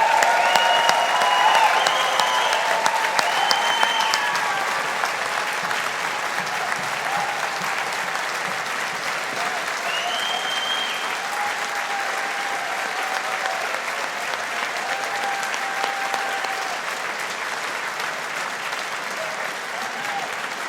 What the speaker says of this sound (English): let's give the class of 2022 a big round of applause